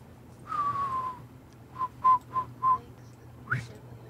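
A person whistles close by in imitation of a character's whistle: one long gliding note, then a quick run of four short pitched chirps and a final upward flick, with no talking.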